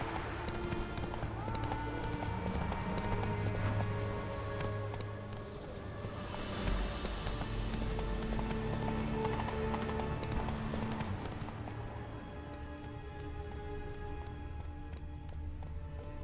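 A horse gallops in The Witcher 3 video game, with rapid, rhythmic hoof clip-clops running steadily under layered game music and ambience, ending with the hoofbeats continuing alone.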